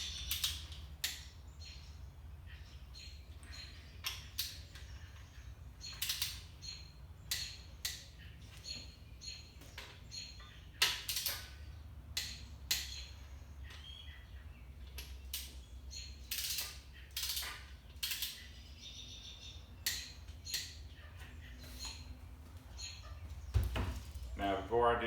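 A socket wrench ratchets repeatedly in quick, clicking strokes while turning a Gen3 Hemi crankshaft in a garage, with a low steady hum underneath and no talk.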